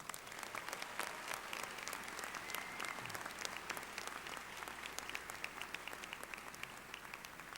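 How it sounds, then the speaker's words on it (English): Steady applause from a commencement audience at a university winter graduation ceremony, many hands clapping in a continuous, fairly distant patter that stays even throughout. "Let's give them a round of applause."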